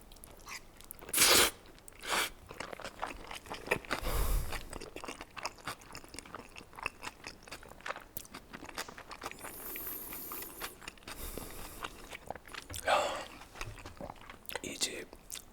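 Close, crunchy chewing and biting of gan-jjajang black bean noodles with onion, irregular mouth sounds rising and falling over about fifteen seconds, with occasional soft talk mixed in.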